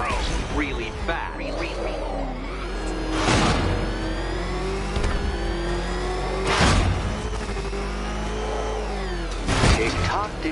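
The Batmobile's engine revs and hums under speech in the video game Batman Arkham Knight, a continuous low drone with several loud whooshing surges and mechanical bursts as it accelerates.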